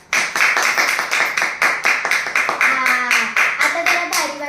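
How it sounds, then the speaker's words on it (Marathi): An audience claps after a child's Republic Day speech, loud and close, with a dense, steady rhythm of many hands that carries on throughout while a voice comes through faintly near the end. "माझं भाषण आवडलं असेल आणि पटलं असेल तर हाताला फोड येईपर्यंत टाळा वाजवा"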